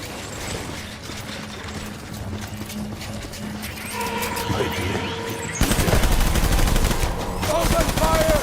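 Death Stranding battle scene: a steady clatter of hooves and horse sounds builds into a loud, sustained barrage of gunfire in the second half, with shouted voices mixed in.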